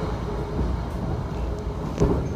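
Jayakarta passenger train of 13 carriages, running from Pasar Senen toward Surabaya, heard from inside as a steady low rumble and rolling clatter throughout, with a brief louder knock near the end and no talk.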